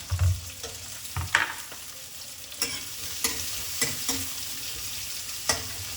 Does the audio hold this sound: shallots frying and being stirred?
yes